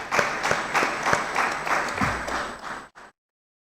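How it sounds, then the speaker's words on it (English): An audience of students at a pan-African culture and arts gathering in Kigali claps steadily, a dense patter with a few sharper individual claps, before cutting abruptly to silence. "You deserve applause"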